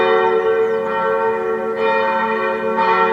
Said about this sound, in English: the church bells rang throughout the country announcing the war was officially over